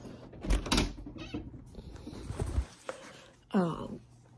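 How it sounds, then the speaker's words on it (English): A house door opens indoors with a few knocks and clunks, then a short squeak near the end. The sounds are close and mixed with quiet talking. "Let me open up my door here."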